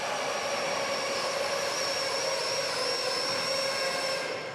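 A small RC tractor at a pulling competition runs continuously with a steady high-pitched motor whine and airy hiss, loud and unbroken throughout, with no talking.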